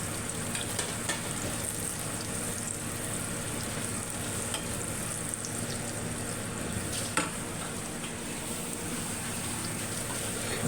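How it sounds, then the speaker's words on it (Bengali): Eggs fried one at a time in a pan for a Bangladeshi egg and potato dal, cooked at home in Dubai. A steady, dense sizzle runs throughout with a faint low hum and a few small pops. "এখানে আমি ডিমগুলোকে একে একে ভেজে নিচ্ছি"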